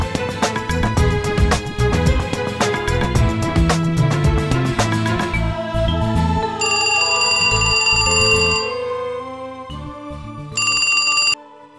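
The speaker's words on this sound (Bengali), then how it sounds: "একটা কাজ সারি আগে, তোরিকে একটা ফোন করি।" A phone places an outgoing call, with music followed by repeated electronic ringing tones in distinct bursts separated by short pauses, fairly loud and with no talk over them.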